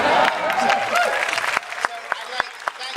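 Audience applause at a film introduction event, loud and dense at first, then thinning into scattered individual claps over a few seconds, with some voices underneath.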